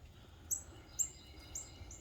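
A wild bird in a backyard gives three or four short, high chirps about half a second apart, faint against a quiet outdoor background.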